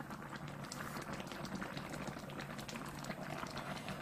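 Budae jjigae, a Korean army stew, bubbling steadily in a pot, a dense continuous burble of boiling liquid at close range with no talk over it.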